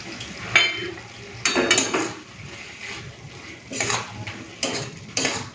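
Spoon or spatula clinks and scrapes against a cooking pan while a cauliflower-potato curry with coriander leaves is stirred, several separate bursts of metallic clatter spread across the moment, fairly close and with no talking.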